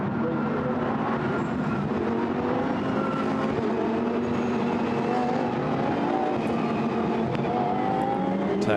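Lamborghini Super Trofeo race cars at Silverstone, engines roaring steadily and sweeping through rising and falling pitches as they exit a corner, loud and continuous without voices.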